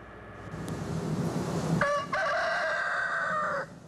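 A rooster crows loudly and close by, one long drawn-out call after some background noise, ending abruptly.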